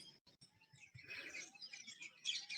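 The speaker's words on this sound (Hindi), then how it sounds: "तीतर की आवाज, कोयल की आवाज, यहाँ सब आवाजें आती हैं पक्षियों की" Outdoor birds call, partridge and cuckoo among them, in a mix of bright chirps and whistled notes, some near and some farther off, irregular and fairly quiet against a still background.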